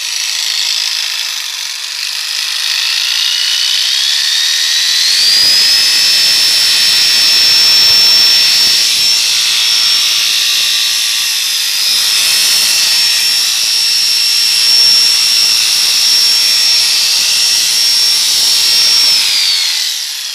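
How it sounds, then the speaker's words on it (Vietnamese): A Japanese-market 110 V electric power tool runs steadily with a loud, sustained high-pitched motor whine. The pitch climbs as the speed control is turned up, then holds at a bright, even level with slight wavering, and no voices are heard. "Bây giờ là mình test cái điều tốc ha."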